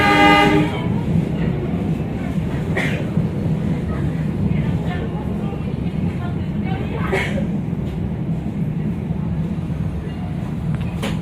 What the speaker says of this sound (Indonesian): Lokal Bandung Raya persiapan masuk di pemberhentian ketiga